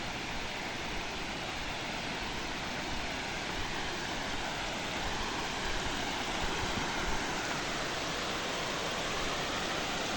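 Water pours steadily over Sirispal Dam in Keonjhar, Odisha, a continuous broadband rush that holds at the same level for the whole stretch with no voices.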